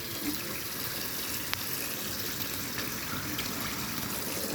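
Tap water runs steadily under a kitchen faucet as a Grundig dishwasher filter is rinsed, a constant close hiss and splash with a brief clink partway through.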